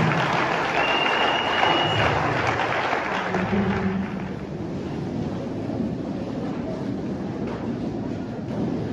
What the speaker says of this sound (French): Acclamez-le moi.